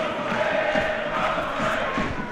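Barnet Bees football fans in a stadium raise a broad, steady crowd roar with cheering, distant and continuous for a couple of seconds.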